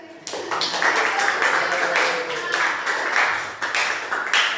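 A classroom of students claps together after a teacher's practice lesson, a dense, steady patter of many hands filling the room for several seconds, with some voices mixed in.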